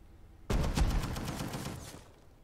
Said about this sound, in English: I just got shot.